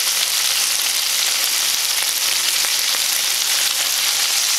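An Italian-style burger patty topped with mozzarella cheese sizzles and fries in a pan, making a loud, steady, dense crackle that runs unbroken for a few seconds with no talking.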